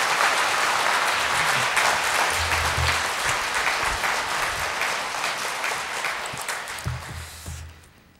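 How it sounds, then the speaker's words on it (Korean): Loud, sustained applause from a congregation welcoming the pastor at an evening church revival service, a dense, even wash of clapping that holds steady for several seconds before tapering off at the end. "우리 크게 또 격려하시며 박수로 이렇게 맞아 주셨으면 감사하겠습니다"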